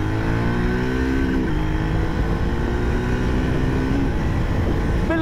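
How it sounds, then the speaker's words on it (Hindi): A 2024 Triumph Speed 400 motorcycle accelerating hard in first gear, its single-cylinder engine note climbing steadily and loudly over constant wind and road noise, with a brief dip before the pitch rises again. "अगर मैं टॉप एक्सेलरेशन की बात करूं 1 गो के अंदर, तो वो भी चेक कर लेते हैं।"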